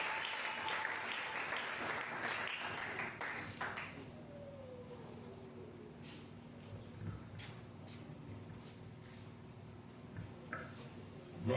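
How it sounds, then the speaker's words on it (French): Church congregation applauding the Lord during a worship service, a dense wash of clapping for the first four seconds that then thins into scattered claps and faint room noise. "On peut l'applaudir."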